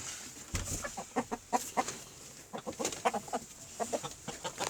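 Red hens cluck in short repeated bursts with a rooster among them, a busy farmyard flock heard fairly close, no talking.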